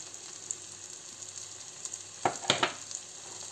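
Chorizo with bay leaf and hot paprika sizzling steadily in a frying pan, with a few brief stirring scrapes near the end; quiet, no talk.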